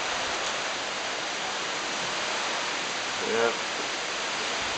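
A dense roar of stormy wind and rough sea pours over a marina in Tropical Storm Maria, a broad steady rush close to the microphone, with one brief word spoken near the end.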